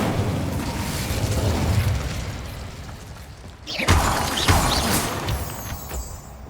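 Incendio fire spell cast in the Hogwarts Legacy video game: a sudden whooshing burst of flame cuts through steady game noise partway in, followed by a few more crackling flares at moderate loudness.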